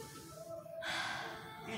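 An inhale during a deep yoga stretch, a soft breathy rush that swells midway and holds steady to the end, close and quiet with no talking.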